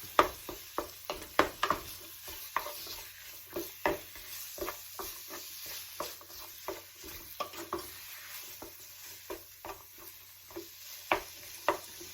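Ground beef is broken up in a frying pan with a utensil, giving repeated sharp scraping and tapping strokes at an irregular pace over a faint, steady sizzle, close and fairly quiet, with no talking.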